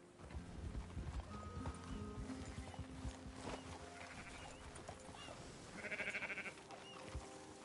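Horse hooves clip-clop in a steady trotting rhythm within the Red Dead Redemption 2 game world, fairly close and continuous, with other game ambience and some tonal sounds layered around them.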